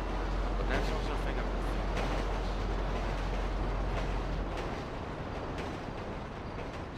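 A train in the video game GTA 5 rumbles past in a steady, loud rolling roar with faint rhythmic rail clatter, continuous and close throughout.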